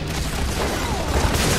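A grenade blast in the video game Gears of War 3, a loud, dense, rumbling explosion that fills the whole moment with heavy low boom and crackling debris.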